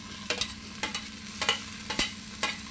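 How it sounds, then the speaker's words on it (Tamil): Green chilies and tomato sauté with onion in a pan, quick scraping strokes of a spoon coming in regular bursts over a faint continuous sizzle, close by with no speech. "போட்டு இது கொஞ்சம் நேரம் வதக்கி விடுங்க."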